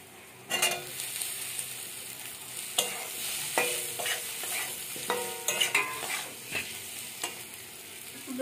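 Bitter gourd frying and being stirred in a pan with spices and chili powder: steady sizzle under repeated scraping stir strokes, close and moderately loud.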